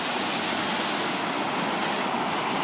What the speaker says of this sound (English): If we walk back here, you can see the waterfall.